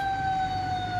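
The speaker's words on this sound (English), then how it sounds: "The ambulance." An ambulance siren near a park holds a single steady, sustained high tone at constant volume for about a second, with no voices over it.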